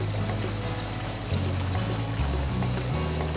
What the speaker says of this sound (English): There's another waterfall there.